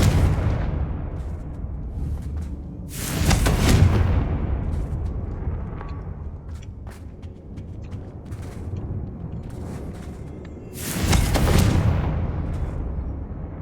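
Confringo fire spells cast in Hogwarts Legacy erupt in two loud, broadband explosive bursts several seconds apart, each blooming and rolling off over a low rumbling game backdrop.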